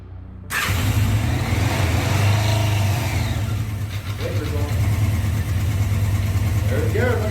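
A 1985 Honda CB650SC Nighthawk engine running without an air filter after priming, a loud, steady mid-range drone that holds for about seven seconds after a sudden start, with small rises in revs near the end.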